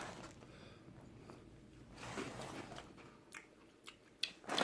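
Cap'n Crunch Soccer Crunch cereal, made of pink, turquoise and yellowish crunch-berry pieces, is chewed up close, a quiet run of crunchy bites that grows sharper toward the end.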